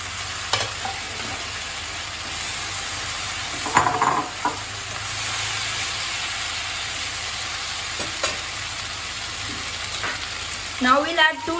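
Noodles are stir-fried in a hot pan in a home kitchen, giving a constant loud sizzle. Occasional scrapes and clatters come from tossing and stirring.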